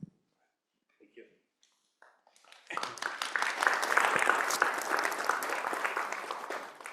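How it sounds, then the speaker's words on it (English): After a short quiet stretch with a few faint sounds, a lecture audience at a carbon capture talk breaks into steady, full applause that holds to the end. "You don't have to applaud."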